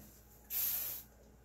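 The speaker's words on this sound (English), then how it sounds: "I only spray it in the cup" A single short hiss of a spray bottle used in acrylic painting, sprayed into a cup, about half a second long, close and crisp against a quiet background.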